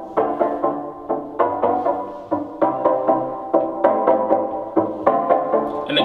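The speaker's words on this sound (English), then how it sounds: "the synth stabs that we had, we pitched them down like 12 dB and kind of added some filter on it" Dark synth stabs, pitched down and filtered, repeat in a steady rhythm in a Caribbean dance beat, their muffled chords pulsing without pause.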